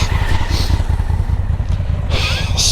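Several motorcycles rumble steadily up a high Andes mountain road, engines droning close by without pause, with brief wind and mechanical hiss on top.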